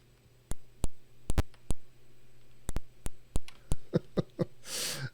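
A series of sharp, short electronic clicks and ticks from an Apple II beeper playing the game Impossible Mission, irregularly spaced, ending in a brief burst of buzzy noise.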